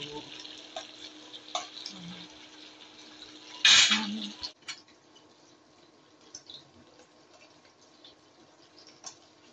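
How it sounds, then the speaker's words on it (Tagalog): Food frying and being stirred in a home kitchen pan, with a soft steady sizzle, scattered scrapes and one loud clattering burst of stirring near the middle. "Paliktarin ko muna yung aking niluluto"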